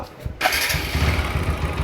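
A TVS Apache RTR 4V motorcycle with a bad engine noise fires up after a brief crank and settles into a rough, loud, close idle, with no voices.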